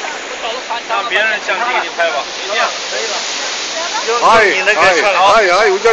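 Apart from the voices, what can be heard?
waterfall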